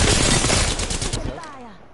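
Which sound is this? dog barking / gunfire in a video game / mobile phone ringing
gunfire in a video game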